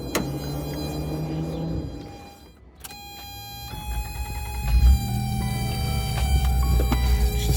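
A 1986 Toyota Tercel DLX engine runs noisily while driving: a steady droning hum with whining tones that dip briefly, then climb as it pulls ahead, over light cabin rattles and no talk.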